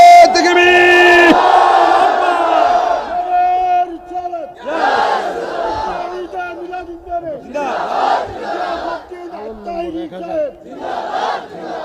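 A large crowd roars a loud, unified takbir cry in response to a Bangla Islamic preacher at a religious gathering. The shout swells at the start, then the preacher's amplified voice carries on with scattered crowd noise beneath.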